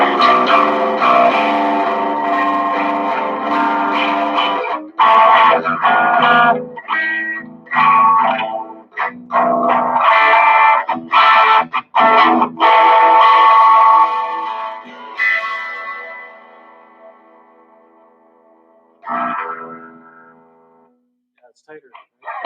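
An electric guitar played through a Celestion Greenback speaker rings out in loud strummed chords and phrases with clear gaps between them, then trails off into a quieter note near the end.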